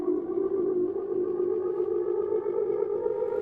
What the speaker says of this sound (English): there you have your classic ocarina style riser